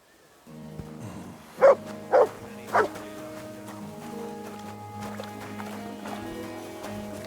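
Three loud, close dog barks from Kingdom Come: Deliverance 2, spaced about half a second apart near the start, then a steady game background of tones and ambience with no further barking.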